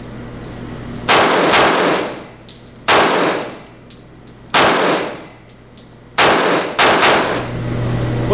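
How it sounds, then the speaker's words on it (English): A Walther PPQ .45 pistol fired on an outdoor range: six sharp, loud shots in uneven pairs and singles, each with a ringing decay, against faint background hum. "we're going to reload the mags and shoot a couple of fast fire strengths just to give you guys the opportunity to see that"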